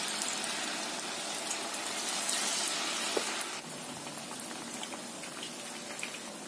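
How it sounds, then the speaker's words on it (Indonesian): Flour-coated tofu egg rolls deep-frying in hot oil, a dense, steady crackling sizzle with bright spitting pops, close and continuous, easing slightly partway through. "Kemudian kita masukkan satu persatu adonan ya, yang sudah kita lumurin tepung. Goreng sampai kering."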